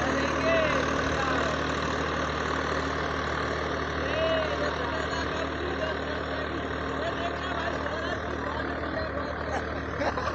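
A tractor engine runs in third gear under load, pulling a deeply sunk cultivator through a field with a continuous, loud, close rumble that holds steady throughout, and no one talks.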